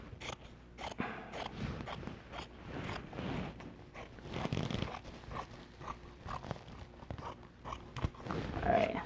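Scissors snipping through fabric while cutting out pieces for a handmade scarf, a steady run of close, crisp cuts and rustling cloth with no talking.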